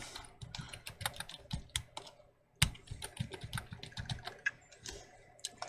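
Rapid clicking keystrokes on a computer keyboard while entering a password, close and fairly quiet, in uneven bursts with a brief pause partway.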